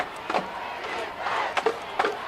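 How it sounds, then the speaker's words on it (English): High school football crowd at Londonderry vs Pinkerton chanting "defense" on third down and goal, a broad murmuring roar with rhythmic swells of shouting rising and falling across the stands. "the crowd trying to aid the defense with a chant of defense"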